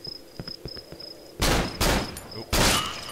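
Gunfire in the horror game Cry of Fear: three loud, broadband gunshot blasts ring out in the latter half, each with a short decaying tail, after softer ambient clicks and a faint steady high tone.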